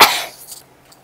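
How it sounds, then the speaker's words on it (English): A single short, sharp cough bursts out close up and fades quickly into quiet. "as it puffed, it began to cough"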